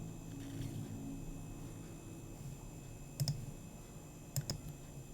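Two pairs of quick, crisp mouse clicks ring out over a steady low computer hum in a quiet room, the clicks spaced about a second apart.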